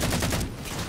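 Gunfire in Halo 4 big team multiplayer plays as a continuous, dense rattle of overlapping shots throughout the short stretch, steady and fairly loud with no voices.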